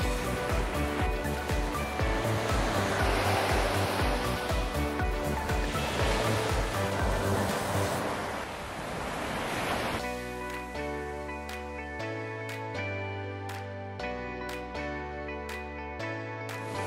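Wind rushes loudly past while riding a golf cart on Captiva Island, a broad steady roar that eases after several seconds as music comes through.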